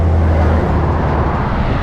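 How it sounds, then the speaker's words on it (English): Big trucks roar past on a highway in Thailand, a loud, dense wash of engine and tire noise that stays heavy throughout, with a low engine hum fading early on. "Those are the big trucks I'm talking about."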